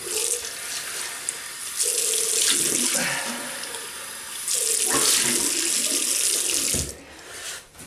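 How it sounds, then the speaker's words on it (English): Tap water runs steadily from a faucet into a sink for rinsing after a Wilkinson Sword shave, a continuous close splash with brief shifts in flow and no talk. "Right, we'll rinse off."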